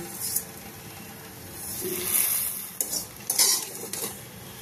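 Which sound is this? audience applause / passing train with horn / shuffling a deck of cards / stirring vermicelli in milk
stirring vermicelli in milk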